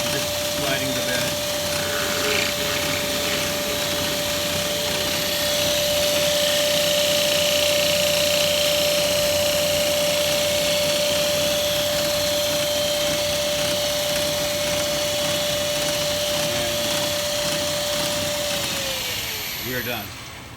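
A Smithy 1220XL lathe-mill runs with gang tooling as its bed slides, giving a steady loud machine whine with a sustained tone that holds for about eighteen seconds, then drops and winds down at the end.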